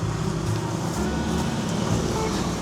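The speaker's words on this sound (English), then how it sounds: "Sorry for the noise guys because I'm in the highway." Constant roar of road traffic nearby, a dense low rumble of passing vehicles with no pauses.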